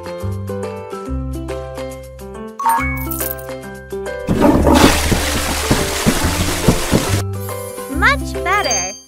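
Toilet flush in a children's panda pet care game: a loud rushing swoosh of water lasting a few seconds amid bright jingly game music, with cartoon chimes and a child-like voice around it.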